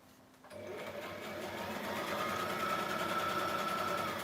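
A sewing machine runs steadily through fabric in a rough, grungy stitching job, a close continuous mechanical whir that starts abruptly after a brief quiet moment and holds for several seconds.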